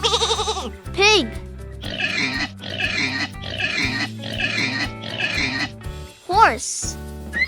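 A pig gives repeated snorting oinks and grunts in a run of five close, rough bursts over light background music, framed by short voiced interjections at the beginning and end.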